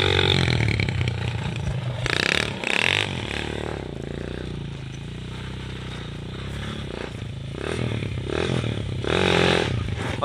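250 four-stroke quad engine revving hard during wheelies, loud surging bursts that rise and fall several times with scraping and clatter mixed in.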